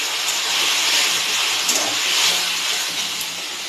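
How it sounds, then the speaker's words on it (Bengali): Potatoes and spices are sautéed with added water in a pan for a shol fish curry, giving a loud, continuous steam-like hiss that barely wavers throughout, with no voices. "এবার আলুর সঙ্গে মশলাটা একটু ভালো করে কষানোর জন্য আমি আরও একটু জল দিয়ে দিলাম।"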